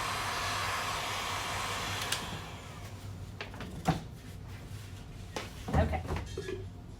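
A blower, likely a hair dryer, drying Voodoo Stain on a wooden moulding, with a steady broadband whoosh running throughout and close, occasional knocks and handling clatter over it.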